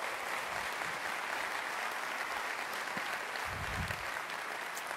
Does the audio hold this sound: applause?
yes